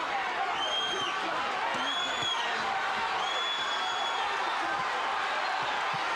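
A boxing arena crowd roars steadily for Nunn during the ninth round of his fight against James Toney, a dense, sustained wall of cheering and shouting with occasional whistles rising above it.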